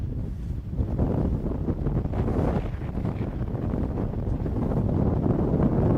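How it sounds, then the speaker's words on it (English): Strong gusting wind buffets the microphone during a skiff sailing race out on the water, a loud continuous low roar with surging gusts and no talk. "Just really windy again."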